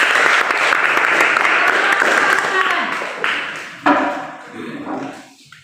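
Classmates give a group of students a round of applause in a classroom, loud dense clapping that tapers off and ends with a few scattered claps and voices.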